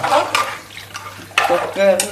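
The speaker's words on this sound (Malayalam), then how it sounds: "നമുക്കൊന്ന് മിക്സ് ചെയ്യത് ഇളക്കി കൊടുത്തിട്ട്" Biryani masala is stirred in a cooking pot, giving several short scraping and clinking strokes of a spoon against metal, close and moderately loud, alone without talk.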